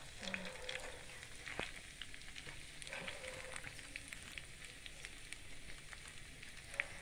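Snake gourd finger chips frying in hot oil for a miniature cooking setup, a steady soft sizzle and crackle running throughout with occasional light pops and a brief clink near the end.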